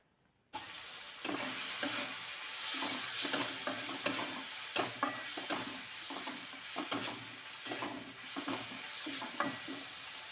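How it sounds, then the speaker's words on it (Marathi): A leftover-rice mixture with chilli and sambar masala sautés in a pan, with continuous sizzling and repeated scraping strokes of a spatula close by, after a short quiet opening. "पुन्हा हे मी परतून घेतलेलं आहे"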